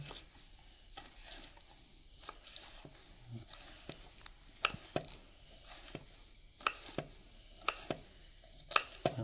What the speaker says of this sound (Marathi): तर आपण याचं छोटं छोटं तुकडं करून घेऊ।